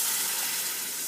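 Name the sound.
chicken and cloves frying in pan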